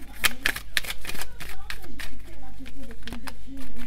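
Tarot cards are shuffled by hand in a rapid run of crisp riffling and flicking bursts, with a voice speaking over them throughout.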